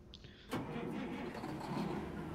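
Ignition of a Freightliner New Cascadia truck in American Truck Simulator, fitted with a Detroit 60 engine of about 534 horsepower and a 13-speed: a starter whine, then the diesel catches and settles into a steady, close rumble.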